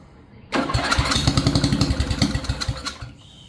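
A Power Pro riding mower engine cranks and catches without choke, bursting into a loud, close, rapid chugging rhythm for about two and a half seconds before cutting out abruptly.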